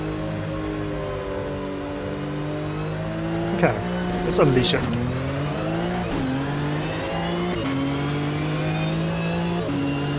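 Porsche flat-six race car in the Automobilista 2 sim racing game, engine revving hard and climbing through the gears with a sharp shift blip midway, loud and close, with someone speaking briefly over it.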